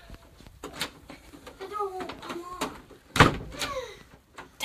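A damaged door is shoved and rattled as someone forces it open, with several knocks and one loud bang, while people talk over it.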